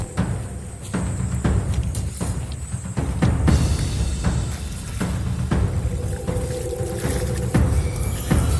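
Steady broadband rushing of Ambon-Ambon Falls in Laurel, Batangas, loud and continuous throughout, with a dense low rumble and occasional splashing variations.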